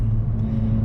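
A car running an APR stage 2 tune drops down into third gear, a steady loud low engine drone with no talk over it.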